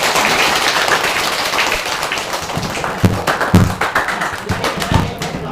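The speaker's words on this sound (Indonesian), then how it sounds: "beri tepuk tangan untuk kelompok 1" Scattered, uneven applause from a small classroom group recognising the first group in a teaching-practice session, claps and taps sounding close and irregular over steady room noise.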